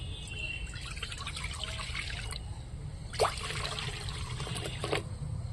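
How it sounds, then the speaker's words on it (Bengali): Water pours into a pot sitting on a stove, a faint, soft trickle and splash with a couple of brighter splashy bursts, quiet and close with low background rumble. "কোঁড়ার মধ্যে কিছুটা জল দিয়ে দিচ্ছি"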